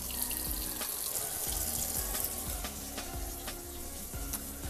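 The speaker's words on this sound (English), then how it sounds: "I'm going to get me a cup of hot water" Hot water runs from a tap into a cup in a steady, continuous rush, close and fairly even throughout, with no voices.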